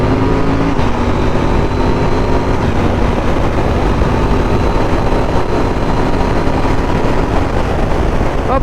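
A 2021 KTM 890 Duke R motorcycle accelerates hard, its engine roaring loudly and continuously over heavy wind rush, heard from the rider's position.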